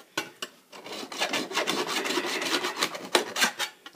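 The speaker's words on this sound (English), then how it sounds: "Get all the burrs off." Short rhythmic rasping strokes of a file smooth burrs from the edges of a handmade ceiling medallion, close and fairly quiet, with no talk.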